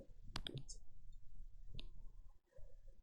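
A few sharp computer mouse clicks, two or three crisp taps close to the microphone, sound faintly over a quiet room hum while selecting an option in software.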